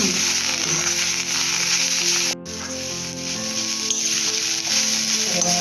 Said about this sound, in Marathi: कांदा थोडा भाजायचा आहे ब्राऊन तो होईल ना